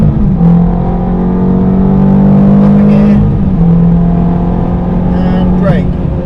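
A supercar on a track circuit accelerates hard with a loud, rising engine note, drops briefly at an upshift, then pulls again at a steady drone, heard from inside the car while an instructor talks throughout.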